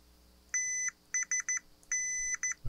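A continuity tester beeps on toggle switch contacts in a series of electronic tones: one longer beep, three short ones, another long beep, then two quick ones.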